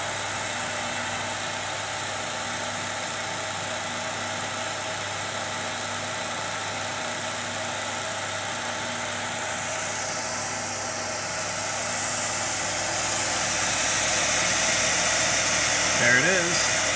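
Milling machine cutting through 3/8 stock with coolant running, a steady mechanical whir and hum held at an even level throughout, growing slightly louder toward the end.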